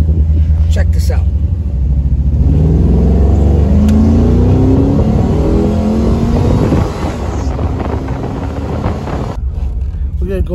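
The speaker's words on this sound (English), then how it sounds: "we're going to go for a cruise in this 1953 Buick Roadmaster with a Corvette engine" A 1953 Buick Roadmaster fitted with a Corvette engine rumbles loudly and revs as it drives, with the engine pitch rising and shifting throughout.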